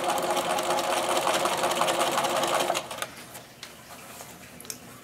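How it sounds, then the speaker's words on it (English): A sewing machine top stitches around the edge of a lined trick-or-treat bag in a fast, even mechanical whir, close and loud, then stops partway through, leaving soft clicks and handling sounds. "And just top stitch all the way around."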